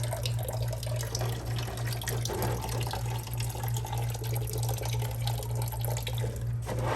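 Coolant drains from a Yamaha R6 motorcycle in a steady, trickling pour of mostly water, heard close up under a constant low electrical hum.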